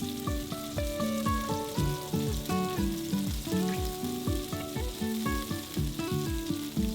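Beef-wrapped enoki mushroom rolls frying in an oiled pan over medium-high heat, a continuous close sizzle and crackle running under rhythmic background music with plucked notes and thumping beats.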